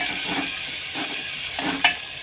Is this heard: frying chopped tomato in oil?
yes